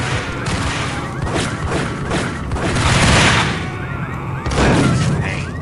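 Gunshots in Max Payne, a dense run of loud booming shots and thuds under faint voices, with bursts that swell and fade over a few seconds.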